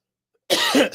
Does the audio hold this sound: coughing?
yes